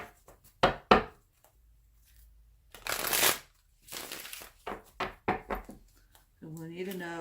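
Tarot cards shuffled by hand in a few quick riffling bursts, close and crisp, separated by pauses and soft handling taps, with a voice briefly heard at the end.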